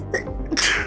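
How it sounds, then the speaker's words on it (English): A single sharp human sneeze, a quick inhaled buildup breaking into a loud, bright burst of breath that trails off, heard close and alone. "Sneeze."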